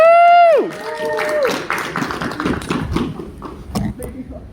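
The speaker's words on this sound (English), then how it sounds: "Round of applause." Open-mic crowd at a furry convention breaks into applause after a cheer, a scattered patter of clapping hands at moderate level following an opening whoop-like vocal sweep.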